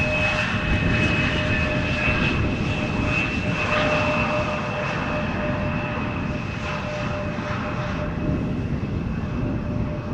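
A fixed-wing airliner arriving at Amsterdam Schiphol Airport roars steadily overhead, a loud, continuous jet engine drone with a faint whine, heard alone without talk.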